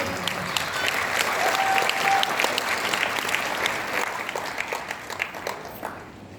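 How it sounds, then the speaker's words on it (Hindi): A seated audience at a Hindi-language AWPL business meeting breaks into sustained applause, a dense, even wash of clapping that carries on for several seconds with little variation before easing slightly. "तालियां बजाओ"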